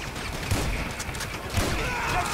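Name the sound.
shotgun gunfire in the video game GTA V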